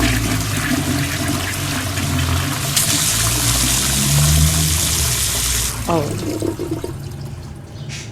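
Water runs in a bathroom in a video game, a steady rushing flow like a flushing toilet or running tap that drops off near the end, with a brief exclamation heard over it.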